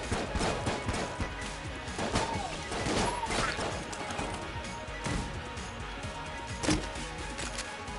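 Rapid, dense video-game gunfire from the Wind Up Gun in Enter the Gungeon, a twin-stick shooter: a loud, continuous stream of crackling shots and impacts runs through the whole stretch, with a few sharper crashes standing out.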